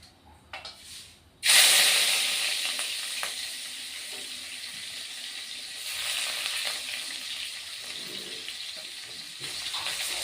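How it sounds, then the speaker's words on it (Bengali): Sliced onions dropped into hot oil in a wok, a sharp burst of hiss followed by a steady close sizzle that swells again midway, faint voice in the background. "পেঁয়াজগুলি আমি লাল করে ভেজে নেব বন্ধুরা।"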